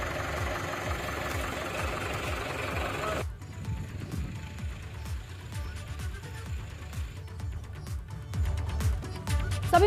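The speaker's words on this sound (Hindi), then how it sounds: "अपनी खड़ी फसल पर कुछ इस तरह से ट्रैक्टर चलाकर।" A tractor engine idles and drones steadily as it is driven over a standing mustard crop in a farm field, a low continuous rumble that grows slightly louder near the end, with no talk.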